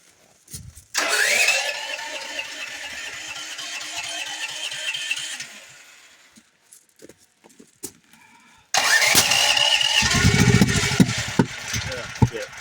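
Sick Duromax generator engine cranks and runs rough for a few seconds, falls quiet, then fires up again with irregular knocks and backfire pops. A voice is heard.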